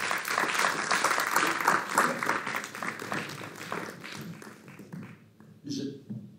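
Council members at a community council meeting applaud in a brief, steady burst of clapping that fades out, with voices murmuring underneath.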